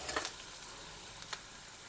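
Tempering for Gujarati ringan no olo, the spiced roasted-brinjal dish, crackling in hot oil, with a soft steady hiss broken by a few brief louder pops near the start and about a second in, close by and with no talking.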